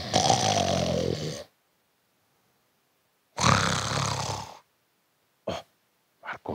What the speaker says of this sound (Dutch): Plots horen ze luid gesnurk.